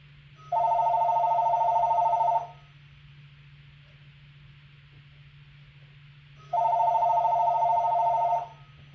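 A VTech cordless telephone rings in two long electronic bursts separated by a pause, close and clear over a faint steady hum, with no talking.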